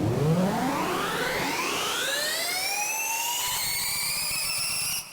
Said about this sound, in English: Arthur is just a lovely one-note riser